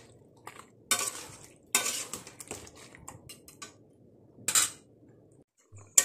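Jackfruit stirred into meat in a cooking pot, a metal spoon scraping and clanking against the pot in several separate bursts, with a soft sizzle of frying between them.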